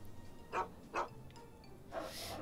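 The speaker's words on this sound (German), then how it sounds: "Braver Hund." Two short, sharp barks from Dogmeat, the dog companion in Fallout 3, sound about half a second apart. A louder burst of game noise follows, with no talk over it.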